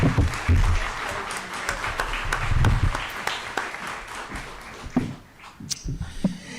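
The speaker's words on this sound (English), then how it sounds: "applause for the Tucson Magnet High School Vocal Ensemble" An audience at a school district governing board meeting applauds a high school vocal ensemble, clapping strong at first and then dwindling to a few scattered claps.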